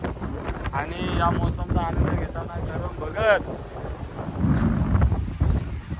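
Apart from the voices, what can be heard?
sea waves and wind at the beach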